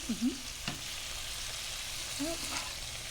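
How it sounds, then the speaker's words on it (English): Food sizzles in a frying pan seasoned with onion salt. A steady, close frying hiss runs throughout, with a few brief scrapes and clinks as it is stirred. "I'm going to give this a stir."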